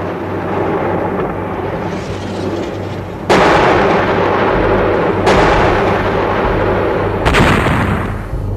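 Heavy gunfire and explosions in the American-led urban assault on Fallujah, Iraq, in 2004: sustained loud roaring fire broken by three sharp, powerful blasts at intervals.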